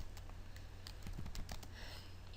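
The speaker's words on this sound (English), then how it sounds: "And so then of course you just type" Steady typing on a computer keyboard, a quick run of close, crisp key clicks with no pauses, over a faint hum.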